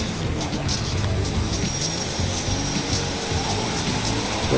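A droning airplane engine in GTA 5 hums steadily throughout, a continuous mechanical whine with a faint pulsing texture.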